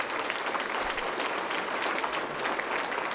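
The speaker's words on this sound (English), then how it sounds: "So let's please join me in giving a round of applause for our staff." An audience at a community annual meeting luncheon gives a sustained round of applause for the event staff, steady dense clapping filling the room with no pauses.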